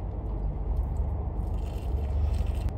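Someone bites into crispy Raising Cane's fried chicken and chews it up close, giving dense crunching and crackling with no talking.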